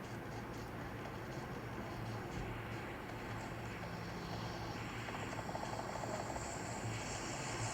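A supply-drop plane passes overhead in PUBG, a faint, steady aircraft engine drone holding throughout with a slight swell toward the end.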